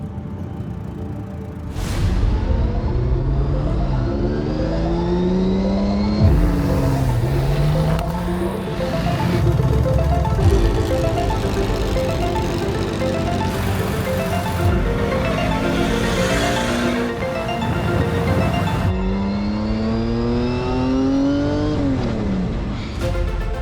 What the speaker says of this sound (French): les quais de Seine vibrent au son des moteurs